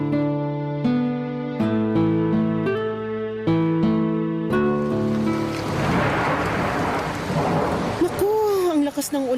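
A rain sound effect for a radio drama, the rain falling outside a window: a sustained rushing, hissing downpour rises after a few seconds of musical notes and stays steady and fairly loud, with no talk.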